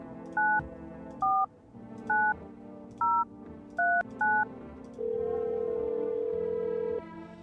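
In a video game, a telephone keypad is dialed to call a neighbor: six crisp dual-tone beeps in an uneven rhythm, followed by a steady two-second tone, clear and close with no talking.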